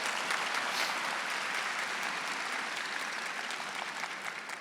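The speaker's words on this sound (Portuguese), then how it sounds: "Então aplauda para valer." A congregation at Mass claps steadily and heartily, a dense, even wash of applause that holds for several seconds before easing slightly at the end.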